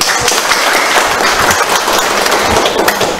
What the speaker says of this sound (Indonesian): Tepuk tangan untuk guru.